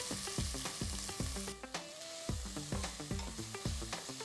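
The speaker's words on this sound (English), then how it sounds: "Saute the onions till they are a nice golden color." Finely chopped onions sautéing in a pressure cooker, a steady close sizzle under repeated rhythmic scraping and tapping of the stirring spoon, with no voices.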